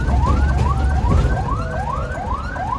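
An ambulance siren wails in repeated rising sweeps, loud and steady over road noise, with no voices.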